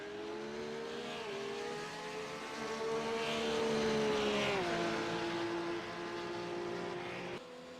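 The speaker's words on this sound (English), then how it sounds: "I love the engine sounds on the McLaren" A high-pitched McLaren GT3 racing engine in the iRacing video game whines steadily, its pitch climbing and then dropping as it shifts, loud and close with no talking.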